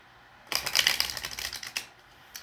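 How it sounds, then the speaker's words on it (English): A deck of tarot cards being shuffled, a close, crisp burst of rapid riffling clicks lasting about a second and a half before it settles into quiet. "get one more shuffle"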